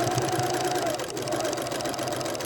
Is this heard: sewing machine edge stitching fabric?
yes